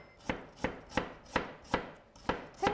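A knife minces ginger very finely on a cutting board, with steady, close chops landing about three times a second and faint kitchen quiet between strokes. Nobody speaks.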